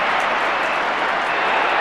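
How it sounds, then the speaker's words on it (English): Dense, continuous roar of a football crowd yelling at VFL Park during a 1991 AFL match between Collingwood and Melbourne, spread wide and steady throughout. "Crowd yelling out for it"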